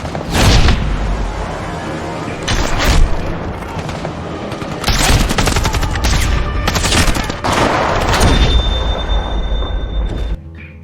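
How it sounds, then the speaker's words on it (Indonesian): Film-scene gunfire as soldiers are shot one by one by a shooter hidden in a forest, dense bursts of loud shots and booms coming in several long volleys with short lulls between them. "Lalu tiba-tiba pasukan Durov ini tertembak satu persatu."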